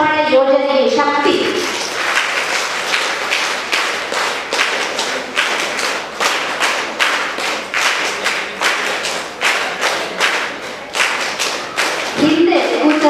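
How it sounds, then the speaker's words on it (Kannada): An audience claps together at a self-help group federation installation ceremony, a sustained burst of applause lasting about ten seconds, with brief speech at the start and end. "ಸದಸ್ಯರ ಕೈ ಚಪ್ಪಾಳೆ ಯೋಜನೆಗೆ ಶಕ್ತಿ"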